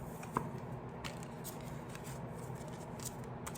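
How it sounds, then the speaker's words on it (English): A tarot deck is shuffled close by, with soft papery riffles and brushing card sounds over a quiet room hum and one brief click near the start. "I need to shuffle."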